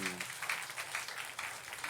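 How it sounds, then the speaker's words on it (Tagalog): Audience applause during a church sermon at MJCC Malolos, a steady wash of many hands clapping at moderate distance for about two seconds. "huwag po kayo mahiyang pumalakpak"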